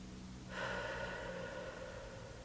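One slow, steady breath drawn in and held during a box breathing exercise, starting abruptly and then continuing as a soft, airy sustained rush close to the microphone with no talk.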